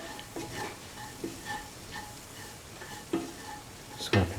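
A spoon stirs garam masala, mixed spices and salt into chickpea carrot rice in a pan, giving a soft scraping rhythm with regular taps over a faint sizzle, ending in a louder clink against the pan.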